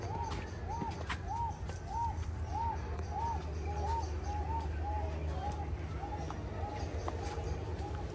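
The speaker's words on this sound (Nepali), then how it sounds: "वन परेवा" A wood pigeon at Adelaide Zoo coos in a steady repeated series of soft, hollow notes, roughly one every half second, over a low constant background hum.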